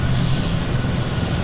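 Steady broadband roar of an aircraft engine at London City Airport in the evening, loud and continuous throughout with no pauses or voices.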